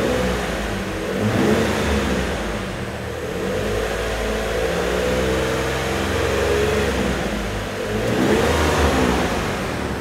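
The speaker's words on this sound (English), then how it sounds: "So now let's hop in and rev it up a little." A Lexus car engine revved up and down several times, the pitch rising and falling in broad swells, heard up close with no speech.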